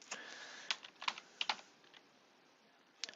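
Someone types on a computer keyboard in sparse, quiet clusters of key clicks, a few taps grouped together with gaps between, close and faint with no talking.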